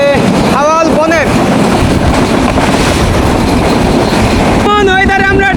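Bonolota Express train rushing along at speed under dark, cloudy skies, a loud steady rumble and wind roar filling the whole stretch, with voices and brief tonal sounds rising near the start and end.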